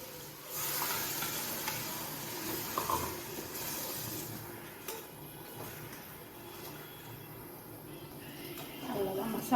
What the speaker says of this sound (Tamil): இப்போ நம்ம அரைச்சி வச்சுருக்கிற மசாலா ஊற்றிடலாம்